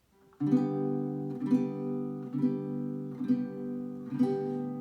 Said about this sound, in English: we are actually going to gently strum across 4 thin strings, gently brushing them down